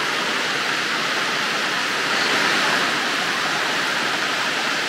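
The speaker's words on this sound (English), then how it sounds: "you get a lot of water coming down from the tarp here, going in onto our cover." Storm rainwater pouring off a camping tarp onto a cover, a loud, constant rushing splash that holds steady for the whole stretch without any talking.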